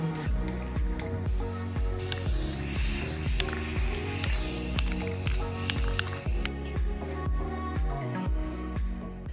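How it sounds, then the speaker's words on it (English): Spray paint can hissing in near-continuous bursts onto scalloped wood garden-bed trim, with rattling, clicking mechanical noises mixed in throughout, close up and moderately loud. "So let's get spray painting."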